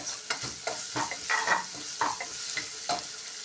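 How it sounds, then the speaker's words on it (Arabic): Onion and garlic stirred in oil in a pan for a Libyan mbakbka dish, frying with a steady soft sizzle broken by a string of scraping spoon strokes, close and fairly quiet, no voices. "هبتدي اقلب البصل مع الثوم في الزيت كويس كده"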